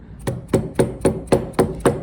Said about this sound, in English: So that's the first step, chiseling.